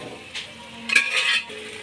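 Fish head, ginger paste and fried kohlrabi hit a pan, heard as a short burst of sizzling with spoon scraping and metal clinks, close and brief with no talk.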